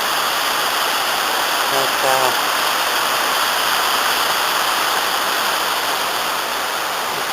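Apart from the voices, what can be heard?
artificial waterfall in Tenerife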